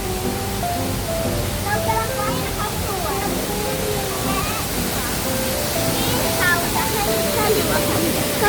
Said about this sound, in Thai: น้ำตกหน้าทางเข้าคาเฟ่นะ